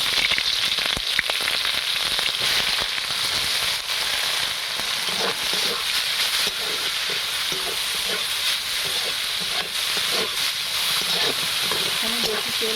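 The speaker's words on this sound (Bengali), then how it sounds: "ওই তেলের ওপরেই পেঁয়াজটা দিয়ে দিচ্ছি।" Onion goes into hot oil left from frying potatoes, crackling and sizzling loudly and steadily up close, with stirring and popping spatters throughout.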